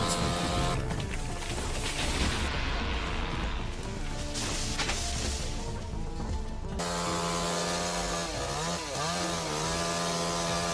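Chainsaw cutting into a giant red cedar tree, a loud continuous engine roar with shifting pitch that changes character partway through, steady and close throughout.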